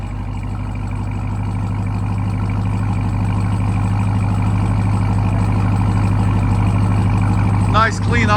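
A 2022 RAM TRX with a supercharged Hemi V8 and muffler-delete exhaust idles steadily up close, a deep, even, throbbing rumble that holds constant, with a brief faint voice near the end.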